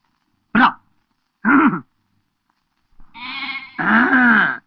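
Goats bleating close by: two short separate bleats, then a longer wavering cry running into a loud sustained bleat, each clear and alone against silence.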